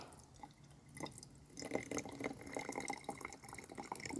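Rainwater splashes and trickles into a garden sprayer, a steady pouring stream with scattered drips, growing slightly louder toward the end.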